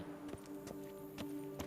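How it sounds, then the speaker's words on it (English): Horse hooves clip-clopping in The Witcher 3, a quiet, evenly spaced series of about five muffled thuds under a steady low game drone. "Even a horse trots if you ride it at a constant gallop"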